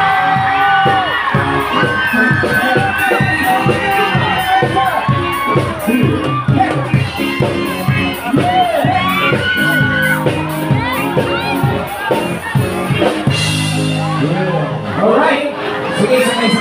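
An audience cheers, whoops and claps to welcome Mayor Jente at a public gathering, a loud sustained crowd roar with shouting voices and dense rhythmic sound throughout.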